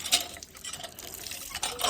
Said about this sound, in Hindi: हम इस वाली गाय पे पानी डाल रहे हैं